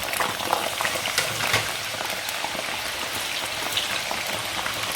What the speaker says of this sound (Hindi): ये चिप्स फ्राई हो गए हैं, इसको निकाल लेते हैं और ग्रीन वाला फ्राई कर लेते हैं